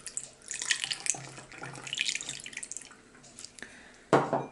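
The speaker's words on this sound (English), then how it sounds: "now we'll add 1 cup" A cup of water is poured into vinegar in a spray bottle, giving a faint trickling splash and gurgle of running water that swells briefly near the end, with no one speaking.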